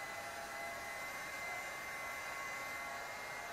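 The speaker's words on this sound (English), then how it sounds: "Gonna take my heat gun right here and" A heat gun blows hot air onto a vehicle tire, a steady, loud broadband whoosh with a constant tonal hum running unbroken throughout, with no talking.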